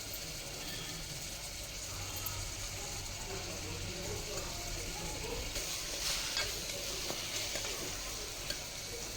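Peas, soya chunks and mixed vegetables sauté in oil for vegetable biryani, giving a faint, steady sizzle with occasional scraping stirs throughout.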